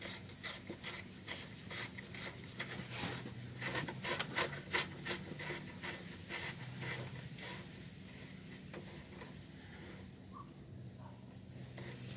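A 1 1/16-inch wrench tightening the bolts on the EGR tube of a 4.6L F-150 with 285,000 miles, with faint, rapid ratcheting clicks in quick bursts that settle into quieter scraping, with no talking.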